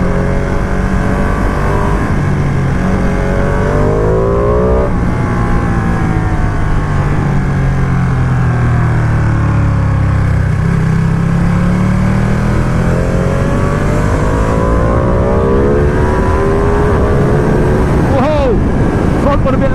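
A 2020 Ducati Panigale V2 accelerates on a bumpy country road, its engine loud and close as revs climb, drop and climb again through gear changes, with wind rushing around the rider.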